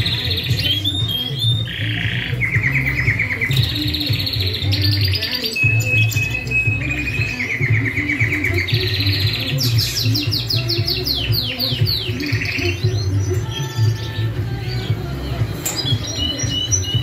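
Pet canaries sing busily in a room, with rapid trills, warbles and chirps layered over a constant low background hum.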